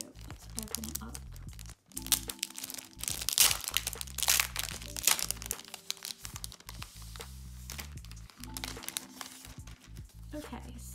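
Stationery package, a Japanese and Korean haul with envelopes inside, being unwrapped: loud, close crinkling and tearing of wrapping in bursts throughout, under a background music bed with no speech.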